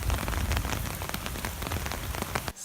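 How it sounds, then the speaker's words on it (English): Heavy rain pours steadily outdoors during a thunderstorm, a dense, loud hiss of drops drumming on surfaces that cuts off abruptly at the end; no distinct thunder clap stands out, and no one talks. "There is still thunder outside and a lot of rain and stuff."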